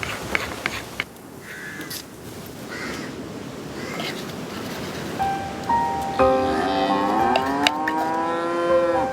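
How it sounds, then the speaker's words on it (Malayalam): A cow moos several times in long, loud, close calls near a farmhouse, with crows cawing in the background and no talk over it. "അതെന്തൊരു കരച്ചിലാമാളൂ പശുവിന്റെ."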